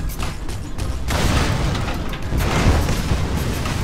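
Explosion attack from a punching character in the Skylanders Trap Team video game: a loud, dense booming burst that swells and sustains across the clip, with rumbling low end and crackling debris-like noise.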